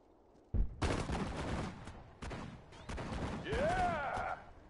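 Bursts of machine gun fire and explosions in a World War II video game battle, loud broadband volleys starting abruptly and continuing with a rising whistle near the end, voices shouting over the combat.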